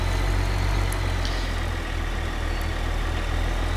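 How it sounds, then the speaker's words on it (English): A tractor engine labours uphill on a farm, a loud, steady low rumble that drones on throughout without a break. "Come on, tractor. Come on."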